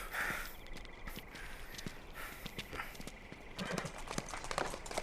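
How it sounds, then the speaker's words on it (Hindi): Horses walking on hard ground, a string of irregular hoof clip-clops at moderate distance over a noisy background, with no speech. "ये घोड़े भी इन्फेक्टेड जगह से आए हैं।"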